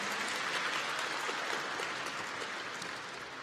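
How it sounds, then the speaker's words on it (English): Audience applause at the Academic WorldQuest 2024 national competition, a steady dense wash of clapping from a large room that holds for several seconds and tapers slightly toward the end. "Let's give them a warm round of applause."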